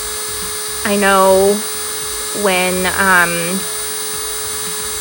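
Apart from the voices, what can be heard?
AIRSEE electric nail file drill running at high speed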